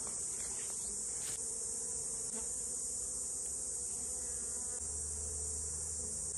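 Honey bees hum around a top bar hive in a dense, steady drone close by, a constant swarm buzz with no voices.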